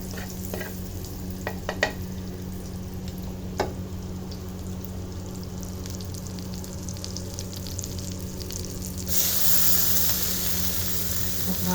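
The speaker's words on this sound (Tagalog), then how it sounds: "So, i-melt natin yan." Butter melts in a pan for sopas, with a steady low sizzle under occasional utensil clinks, and the frying swells louder and brighter toward the end.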